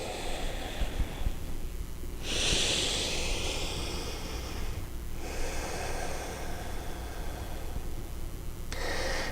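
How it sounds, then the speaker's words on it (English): Deep yoga breaths, long slow inhales and exhales heard up close as broad airy rushes, a few pronounced breaths standing out over a steady background hiss. "Taking big breaths in, long breaths out."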